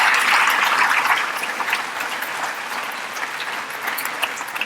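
Audience applause at a school district's distinguished alumni award ceremony, a dense, loud crowd of clapping that starts strong and continues steadily, easing slightly partway through.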